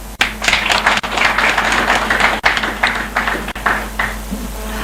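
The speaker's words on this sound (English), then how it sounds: "Ladies and gentlemen, a huge round of applause." An audience at a launch event for a national waste management strategy gives dense, loud applause of many hands clapping. The clapping holds steady and begins to thin toward the end.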